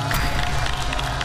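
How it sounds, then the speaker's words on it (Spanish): A brief burst of audience applause and crowd noise at a televised entrepreneur pitch show, dense clapping filling the short moment. "Un aplauso. Bravo."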